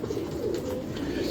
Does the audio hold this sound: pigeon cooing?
yes